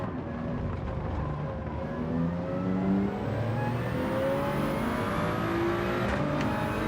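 A Toyota Supra race car engine in Gran Turismo 7, revving and whining through gear changes during a race as rival cars are nearby, with a continuous, fairly quiet drone and no talking.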